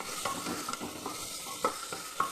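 Onions sizzling in hot oil in a pot for chicken stew, stirred with a spatula, with ginger and garlic going in; steady frying hiss broken by several sharp scrapes and taps, close and moderately loud, no talking.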